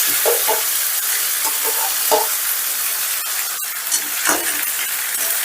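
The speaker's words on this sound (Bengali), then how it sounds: "এবারে এই চিকেনটা মশলার সাথে, মানে পেঁয়াজ আর রসুনের সাথে বেশ ভালো করে কষে নেব" Marinated chicken stir-fries in a pan with onion and garlic, giving a loud, steady sizzle. A spatula scrapes and stirs at irregular intervals, close up, with no voices.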